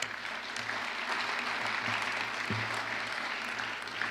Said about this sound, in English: So all of you deserve a round of applause.